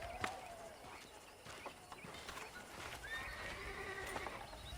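A horse whinnies twice in Red Dead Redemption, a short neigh early and a longer rising whinny later, over steady clip-clopping hooves and outdoor ambience.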